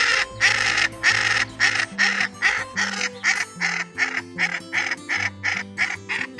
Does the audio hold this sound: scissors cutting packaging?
no